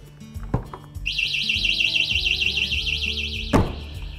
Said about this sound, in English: Now let's see if the alarm goes off like it should.